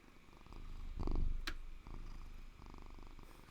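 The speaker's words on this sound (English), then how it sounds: "Can you hear that purr?" An old cat, around fifteen or sixteen years old, purrs right up against the microphone, a soft low rumbling flutter that swells and pulses steadily, with no talking over it.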